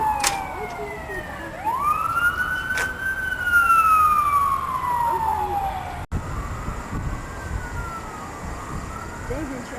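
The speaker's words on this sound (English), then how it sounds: "These are ambulances going to the river, to the dock, to pick up more wounded" Ambulance sirens in a procession heading to a river dock, wailing loudly in long rising and falling sweeps that carry over a steady city traffic roar, with a second siren fainter in the background.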